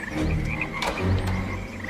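Frogs croak loudly and continuously close by, their throaty calls overlapping in a dense chorus for a couple of seconds.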